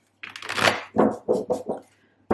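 Tarot cards riffle and slap together in a close, quick shuffle, a long rushing burst followed by several shorter papery flicks.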